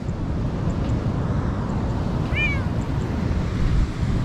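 A cat meows once on a beach at Pantai Pandansari, a short clear call over a steady roar of surf and wind noise.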